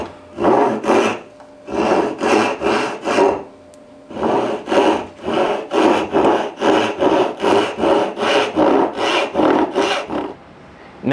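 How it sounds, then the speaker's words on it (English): A hand saw cuts dovetail tails in a board clamped in a vise, with loud, close, rhythmic rasping strokes in three bursts separated by short pauses. "So I've got it in my vise and I've got my X's marked so I know I'm cutting on the proper side of my line."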